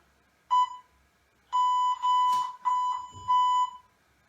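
Several loud electronic beeps from a workout interval timer, one short tone followed by a rapid series of longer tones, steady and close during an abs and core exercise session.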